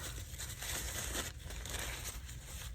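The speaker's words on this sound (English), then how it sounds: "I'll crumple it up" Paper being crumpled by hand for a junk journal page, a continuous close crinkling and rustling that runs steadily throughout with no voices.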